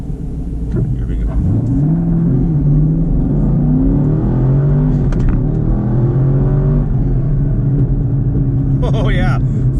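A Chevrolet Camaro SS 1LE on a 0-60 acceleration run, its engine rising steadily through the gears with a loud, close roar and brief shift dips, while people talk over it.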